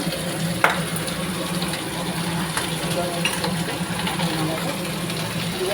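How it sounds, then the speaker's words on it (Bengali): Fish pieces fry in a pan of oil for a home-cooked dal; a steady close-up sizzle continues for several seconds over a low background hum, with one brief clatter near the start. "মাছ ভাজা হচ্ছে এখন"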